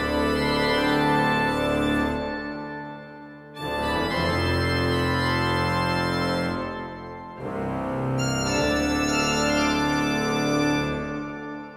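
Orchestral Tools Crucible Organ playing a sustained chordal theme in long held phrases with brief gaps, rich harmonics and a long reverberant hall tail, loud and alone.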